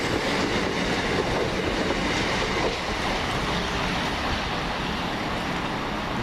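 A Class 377 electric multiple unit, number 377419, passing at Hilsea with a loud, steady rolling rumble and faint wheel clatter that holds close and constant throughout.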